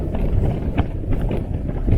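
Gale-force wind on Dartmoor buffeting outdoors, a loud continuous low roar with irregular gusting surges and rumbling buffets, no voices.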